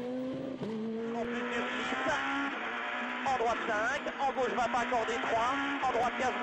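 Thierry Neuville's rally car racing at the Rallye du Condroz 2011, its engine loud and steady with rising and falling revs through gear changes, under continuous commentary from a speaker.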